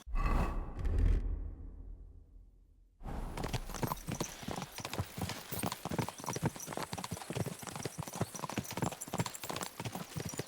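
Horse hooves clip-clopping in Kingdom Come Deliverance 2, a brief muffled passage giving way after a short silence to a steady, close, rhythmic trot of hoofbeats.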